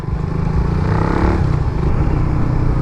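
A Suzuki Raider 150fi motorcycle with an open carb runs its engine, a loud, close, continuous low-pitched roar with a slight rise around the middle, unaccompanied by talk.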